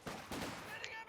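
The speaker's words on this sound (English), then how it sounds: "He's staggering under the heavy machine guns there that Hector keeps displaying" Heavy machine gun fire in Company of Heroes 2, a 1v1 match pitting grenadiers against a section, rattling in sustained bursts under a busy mix of battle sounds with some faint talk.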